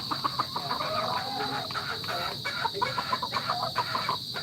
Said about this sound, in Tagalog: may mga manok kami dito sa bundok